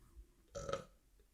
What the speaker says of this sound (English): I'm going to burp, hang on.